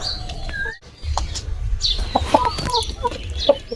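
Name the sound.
chickens clucking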